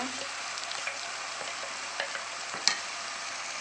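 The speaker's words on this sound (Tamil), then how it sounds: "நல்லா எண்ணெயில் நல்லா வதக்கிடுங்க பச்சை வாசம் போகிற வரைக்கும் வதக்கிடுங்க" Fish curry masala for a pomfret curry sautéing in hot oil, a steady broad sizzle with a few soft spoon scrapes and one sharper clink near the end; no voices.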